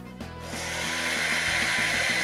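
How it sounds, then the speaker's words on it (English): A Stanley Jr. toy chainsaw runs steadily, giving a continuous buzzing, whirring hum that starts after a brief click and keeps a pulsing mechanical rhythm, close and moderately loud with no talking. "It actually works like a chainsaw."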